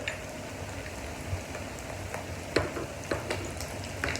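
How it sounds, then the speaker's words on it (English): Salmon cakes sizzle and crackle steadily in a frying pan, soft and close, with occasional sharper pops and spatters and no talking. "when you're frying your salmon cakes"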